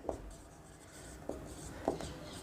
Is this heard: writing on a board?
yes